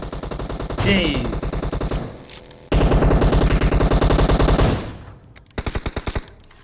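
Automatic gunfire in PUBG Mobile, loud close bursts of rapid shots, a long stream, a pause, then shorter bursts, with voices in the background.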